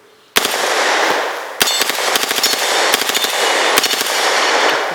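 A select-fire gun firing automatic bursts at a tree outdoors, several loud sustained strings of rapid shots following one after another with sharp cracks and little pause between bursts.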